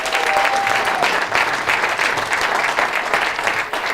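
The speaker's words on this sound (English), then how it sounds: "let's give Travis a round of applause" Audience applause fills a networking event hall, a steady dense clapping from a crowd that holds loud and even throughout with no voices over it.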